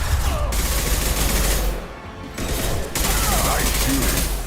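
Dense, continuous gunfire from a Mass Effect firefight, loud bursts and volleys rolling almost without pause, with a short lull near the middle and voices calling out underneath.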